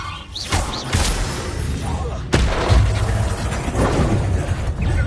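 Spell-casting effects in Hogwarts Legacy combat: swooshing magical bursts and a sharp crackling impact midway, followed by a rumbling blast, with a voice shouting among the effects.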